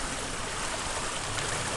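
Typhoon Ondoy flood water rushes steadily, a broad continuous hiss of moving current with no voices.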